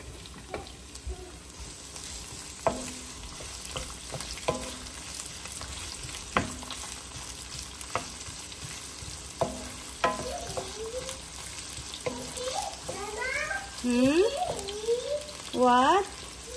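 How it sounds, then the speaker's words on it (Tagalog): Onions sizzle in hot oil with ginger in a home kitchen, under a steady low hiss broken by sharp utensil clinks and a few brief vocal-like chirps toward the end. "Inuod ko na guys ang mantika at saka ang ginger. Tapos isunod ko guys ang sibuyas."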